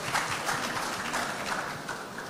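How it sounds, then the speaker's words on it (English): An event audience applauds a prize winner with steady, dense clapping from a crowd that stays even and fairly close throughout the short stretch. "Let's clap for her."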